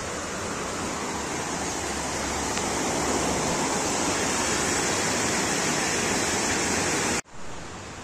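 The Bystrzyca Dusznicka river flows in a steady, loud, broadband rush that continues unbroken for several seconds before cutting off abruptly near the end.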